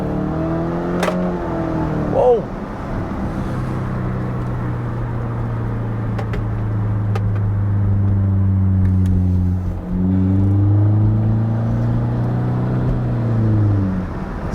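A 2016 Subaru Impreza 2.0i is driven hard in first gear, its engine revving upward in a steady climbing drone, dipping briefly at a shift before pulling again, close and loud inside the cabin with a short exclamation from the driver.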